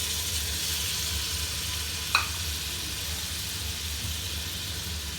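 Softened onions with freshly added tomatoes sizzling steadily in a pan for butter chicken, a continuous close frying hiss with a brief sharp clink of a utensil partway through.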